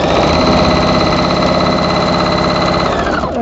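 A sewing machine stitching quilt fabric runs in a loud, close, steady mechanical whir with a fast even rhythm, continuing without a break and slowing slightly at the very end, with no voices.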